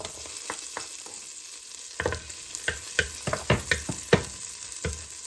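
Garlic sizzling in butter in a pan, a soft continuous frying hiss broken by sharper stirring taps and scrapes that cluster toward the middle and end.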